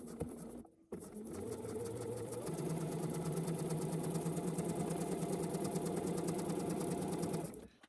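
A sewing machine stitches close along a zipper's metal teeth, running in a steady fast whir with a rapid needle rhythm for most of the clip after a brief start and pause, loud and near with no talk.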